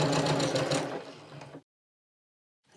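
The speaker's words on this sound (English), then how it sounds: "Off to the sewing machine." A sewing machine stitching a seam in scrap fabric runs steadily for about a second and a half, close and moderately loud, then stops into silence.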